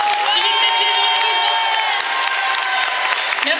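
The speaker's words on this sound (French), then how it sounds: "Vous pouvez les applaudir encore bien fort une dernière fois." A crowd at a geek convention stage event in Lille breaks into sustained, loud applause with scattered cheers and whoops, a dense continuous clatter of clapping from start to finish.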